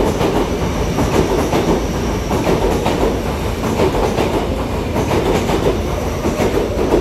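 A Taiwan EMU700 commuter set, EMU729+EMU730, on a test run via the North-Link line from Hualien toward Fugang depot, rolling past loud and close with steady rumble and rhythmic wheel clatter throughout.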